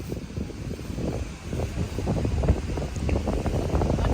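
Steady gusting wind roars across the microphone by the sea at Kuakata, a continuous low rumble with no voices.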